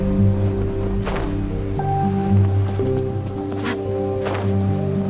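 A steady rain downpour hisses in a fantasy video game, Genshin Impact, with a sustained wash and a few faint droplet ticks over a low background music drone.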